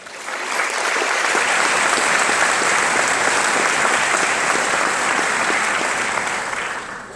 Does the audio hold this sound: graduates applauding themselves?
yes